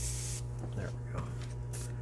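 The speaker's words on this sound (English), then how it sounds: "Clear a little bit of clog out of my airbrush" An airbrush sprays paint in two loud, hissing bursts at the start and end while it clears a clog, with a low steady hum and brief voice sounds between them.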